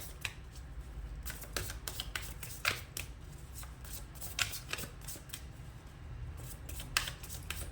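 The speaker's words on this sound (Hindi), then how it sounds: "मैं शफल कर रही हूँ।" Tarot cards are shuffled by hand in a steady run of soft riffling bursts and papery slaps over a low background hum, with no talking.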